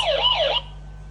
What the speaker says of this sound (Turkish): Siren özelliği ile bulunduğunuz bölgede siren çalmak istiyorsanız siren çalabilirsiniz